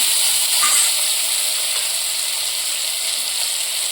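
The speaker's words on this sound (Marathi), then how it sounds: "कडीपत्त्याच्या नंतर बटाटा बटाटा चांगला आता परतून घेऊ आपण" Potato pieces fry in hot oil in a pan just after curry leaves go in, for a cluster bean vegetable dish, giving a steady, even sizzle throughout with no talking.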